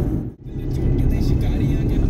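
A car cruises at around 50–60 km/h through city traffic between Gurgaon and Laxmi Nagar, its steady low engine rumble and road noise filling the cabin, with a brief dip before the drone resumes.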